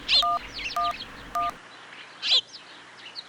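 Three quick electronic keypad beeps from a phone being dialed in an animated cartoon, evenly spaced and clean, followed by brief chirpy bird-like calls.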